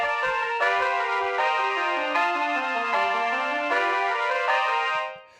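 A pentatonic solo over Rhythm Changes on the first bars of a song, played with a poor approach: a sustained, bright melodic instrument line that moves through note changes and rises and falls in pitch, then stops cleanly at the end.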